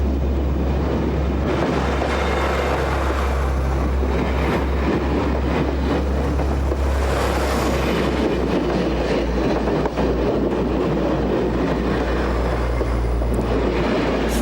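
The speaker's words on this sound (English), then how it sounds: "Today, passengers travel in an aluminum diesel train." Aluminum diesel passenger train running on a mountain line along the Douro in Portugal, a steady loud rumble from inside with rhythmic clickety-clack of wheels over rail joints and a faint squeal.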